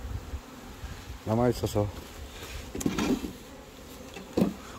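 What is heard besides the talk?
honeybees buzzing around beehive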